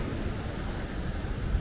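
Ocean surf rolling onto the shore near a waterfall, heard as a continuous low roar and wash of breaking water mixed with wind buffeting the microphone, without speech.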